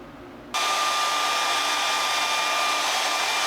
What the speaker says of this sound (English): So we're drying the hair into the position that it's going to be when the gel goes in.